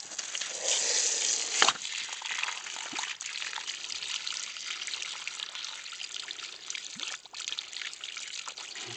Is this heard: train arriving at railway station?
no